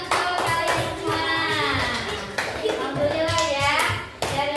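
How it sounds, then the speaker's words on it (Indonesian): A class of primary-school children claps together in a classroom, a busy scatter of hand claps blended with excited kids' voices talking and calling out throughout. "Tepuk tangan untuk kalian semua"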